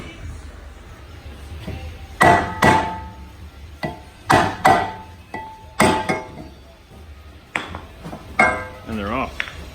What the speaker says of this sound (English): They're going to fall off, or they're going to need a whack.